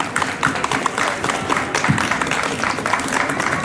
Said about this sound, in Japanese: 皆拍手でお招きくだされ。